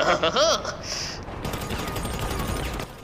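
Rapid gunfire from a weapon in the video game GTA, a dense burst of shots that starts up quickly and runs on steadily at close range, loud and continuous after an opening of mixed game sounds.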